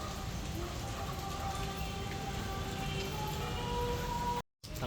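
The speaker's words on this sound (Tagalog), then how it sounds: "grabe na kayang ulan" Heavy rain pours steadily outdoors in a dense, continuous hiss of drops hitting surfaces, loud and unbroken apart from a momentary dropout near the end.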